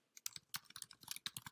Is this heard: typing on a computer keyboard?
yes